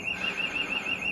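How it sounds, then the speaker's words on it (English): A high, steady electronic alarm beeps and warbles without a break while an extract fan is being installed indoors in Cleckheaton, Bradford, loud and alone, with no voices over it. "You can hear the alarm going off now."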